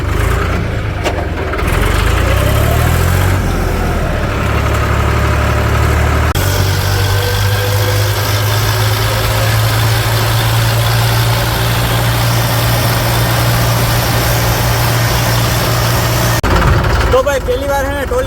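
A tractor hitched to a loaded trolley idles with a steady low rumble throughout, voices talking over it near the start.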